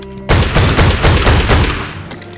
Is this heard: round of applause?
no